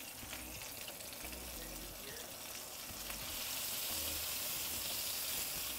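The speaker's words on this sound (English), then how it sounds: "Should sizzle as soon as you drop it in." A king salmon fillet sizzles in a hot pan, a dense, steady hiss that swells louder partway through and carries on without pause.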